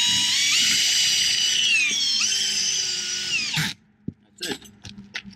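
A power drill drives long roofing screws with plates into a flat roof, one loud high whine of about four seconds that stops abruptly, followed by a few clinks and light handling noises.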